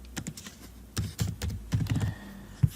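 Quick bursts of typing on a computer keyboard, irregular clusters of close, crisp key clicks with brief pauses between words.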